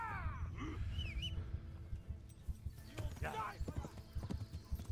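Horse hooves clip-clop steadily in the Kingdom Come: Deliverance video game, a close rhythmic trot running throughout, with voices and gasps over it.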